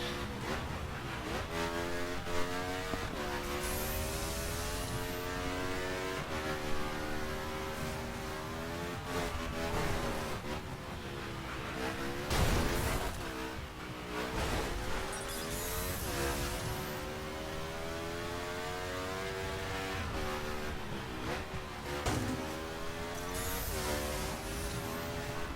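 Motorcycle engine in The Crew racing game, a steady high-pitched whine that rises and falls with shifts and throttle on a Highlands challenge road, loud and continuous with brief surges.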